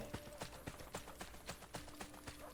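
Horse hooves in Assassin's Creed Brotherhood, a steady galloping clip-clop of repeated evenly spaced hoof strikes, soft and somewhat distant, with no talking.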